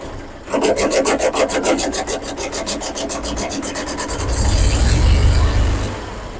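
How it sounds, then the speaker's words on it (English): Small pony motor on a tanker truck cranking over with a rapid rhythmic rasping pull, then catching and running with a deeper rumbling burst before settling, heard close and loud. "It's a pony motor, guys."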